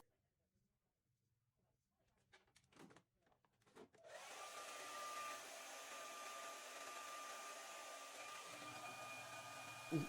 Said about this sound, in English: I'm blow drying it into place, and that's on cool